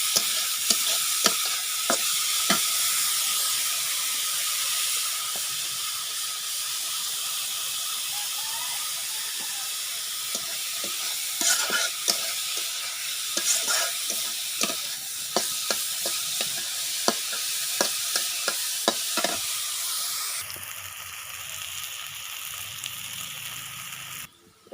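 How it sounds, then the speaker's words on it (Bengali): Onions and chillies fry in a pan with a loud, steady sizzle and hiss, broken by scraping stirs, before the frying quiets near the end. "এই যে হলো আমি মাছ ভেজে নিয়েছি পেঁয়াজ মরিচ ভাজতেছি"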